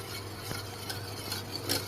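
Flour is stirred into melted butter in a pan to make a roux, giving a faint, brief scraping stir with light sizzle and a few soft spoon clicks.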